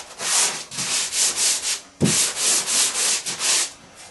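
Hand sanding of a drywall joint, rhythmic back-and-forth scratchy strokes close up, about a dozen even passes with a brief pause midway, no voices.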